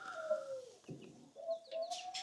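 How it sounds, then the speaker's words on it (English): Lavender Creole Easter egger bantam chicks give a run of high, thin peeps and chirps, close by with brief gaps between calls. "these are lavender Creole Easter egger bantams."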